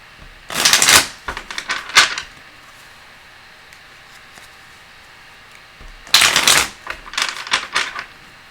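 Two bursts of rapid card shuffling, a riffle around the first two seconds and another near six seconds, with a quiet gap between them.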